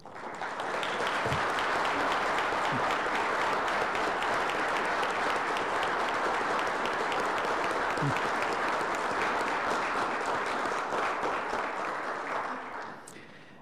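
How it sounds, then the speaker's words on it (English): A round of applause during an Ottawa city council meeting: steady, dense clapping from a roomful of people that holds for about thirteen seconds before tapering off at the end. "I invite everyone to join me in a round of applause for their outstanding contributions."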